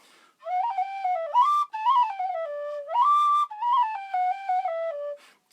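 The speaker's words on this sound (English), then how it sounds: "Totally out of tune. It's exactly what you want for a tin whistle." A battered, out-of-tune tin whistle with a wooden fipple plays a short melody of sustained, reedy notes with quick slides between them, close and fairly loud with no talking.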